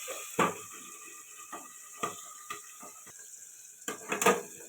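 A lid clatters onto a wok of frying pabda fish in a home kitchen, bringing sharp metallic knocks and clinks that stand out over a faint, steady hiss of hot oil.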